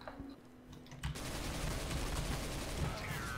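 After a brief quiet moment, rapid automatic gunfire in the video game Counter-Strike: Global Offensive, on the Dust2 map, bursts out and continues in a dense, loud stream of shots.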